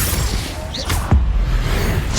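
Spell blasts from Hogwarts Legacy combat, a whooshing cast followed by a sharp booming impact amid a steady noisy battle backdrop.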